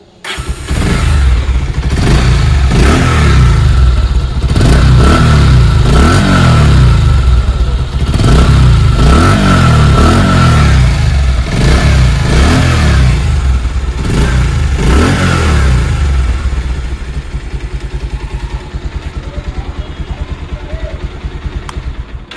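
A used Bajaj Pulsar motorcycle, new model, is revved hard in loud repeated bursts of throttle close by, settling toward a quieter idle near the end.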